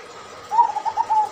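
A zebra dove (perkutut), a local bird kept in captivity, gives a short, soft, rhythmic coo of several quick rounded notes, close by and alone against a quiet background.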